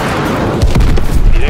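A missile strike blast in the video game Call of Duty MWIII, heavy booming impacts landing in quick succession over a dense, loud battle din.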